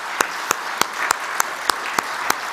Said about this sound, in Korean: 박수로 우리 환영할까요?